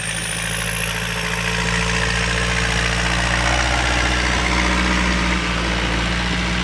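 Yanmar EF72 turbo tractor engine idling, a steady loud low rumble with a continuous high whine, close and unchanging throughout.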